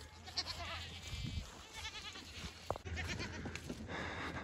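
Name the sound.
goats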